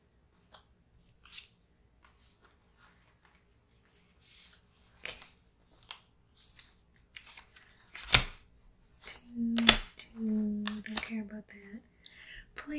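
Cards drawn and handled during a Legendary X-Men deck-building board game, soft close-up snaps, slides and rustles of card stock in a quiet room, with occasional faint soft-spoken talk.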